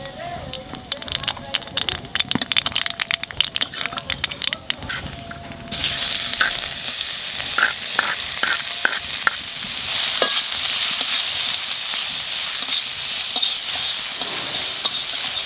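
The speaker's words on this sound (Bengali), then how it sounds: "তেলের উপর দিয়ে দেবো কালো জিরে," Nigella seeds hit hot oil in a home kitchen pan and burst into a loud, steady sizzle about halfway through, after a stretch of clinking stirring sounds.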